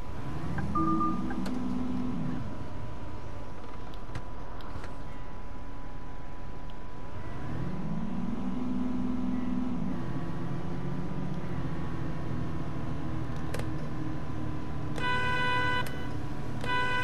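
The engine of an Iveco Urbanway articulated bus in Bus Simulator 21 hums steadily, with low rumbling swells as it accelerates twice and faint horn-like tones near the end.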